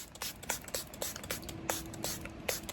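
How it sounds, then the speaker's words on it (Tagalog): A hypochlorous acid facial mist is sprayed toward the face as a series of short, soft, hissing pumps in an uneven rhythm, faint and close, with no talking over them. "And then mag-spray tayo sa face."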